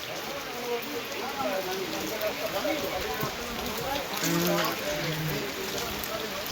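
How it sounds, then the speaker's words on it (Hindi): Water falling steadily like rain during a wedding function where food is being cooked, a continuous close pattering wash with faint low voices underneath. "ये पानी पड़ ही रहा है"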